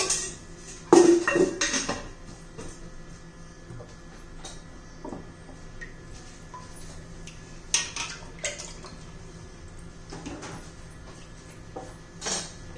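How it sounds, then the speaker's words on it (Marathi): Oil goes into a heating kadhai with peanuts nearby for a spicy green-masala brinjal dish, bringing clinks of pot and utensil, a soft pour and light crackle, with sharper knocks near the start and at the end. "त्यात आता तेल घालूया थोडं."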